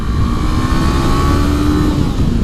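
A 2018 Honda CB500X ABS motorcycle engine revs through first gear, a loud, continuous, close engine drone with its pitch rising gradually and smoothly over a couple of seconds.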